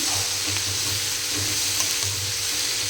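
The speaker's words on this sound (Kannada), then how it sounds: "ಎಲ್ಲ ಹಸಿ ವಾಸನೆ ಹೋಗೋ ತನಕ ಹುರಿಬೇಕು" Mushroom masala sizzles and fries steadily in a pan, a continuous close crackle with faint stirring, no voices.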